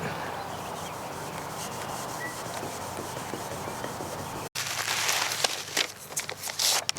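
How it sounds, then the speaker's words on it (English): Cloth rubbing McGuire's marine wax onto the outside of an RV travel trailer window frame, a steady close scrubbing swish that grows louder and more scratchy in the final seconds. "we're going to clean up the outside of the window frame here with a little McGuire's marine wax"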